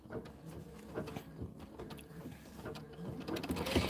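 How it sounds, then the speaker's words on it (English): Close up, an embroidery machine runs decorative stitching around autumn borders with a quiet, busy rhythm of ticking and clattering needle movements, and no voices. "I'm just going to do the decorative stitching"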